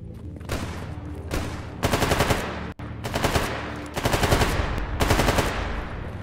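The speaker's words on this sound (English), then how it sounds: "What are they shooting?" Bursts of automatic gunfire in the survival shooter STALKER GAMMA, several rapid volleys separated by short pauses, loud and close with no talking.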